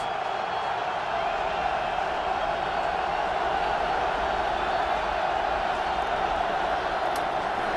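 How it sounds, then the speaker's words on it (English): A football stadium crowd at a 2010 NFL Wild Card playoff game, Packers at Eagles, roars in a dense, steady wall of noise that stays loud and unbroken throughout. "This crowd is alive."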